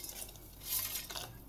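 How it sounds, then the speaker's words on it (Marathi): Farsan snack mix going into a pot of boiling curry, a short burst of light rattling, clinks and stirring scrapes at close range. "आता ही फरसाणा ह्यात टाकते"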